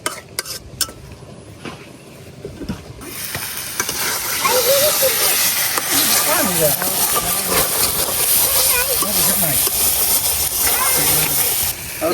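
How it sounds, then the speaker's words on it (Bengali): Shing (stinging catfish) being sautéed with spices in a pan: a steady, loud sizzling hiss with stirring scrapes and clinks of a utensil against the pan, and a voice speaking faintly at times. "মশলার সাথে মাছগুলো আমি দুই তিন মিনিটের মতো কষাই নিছি"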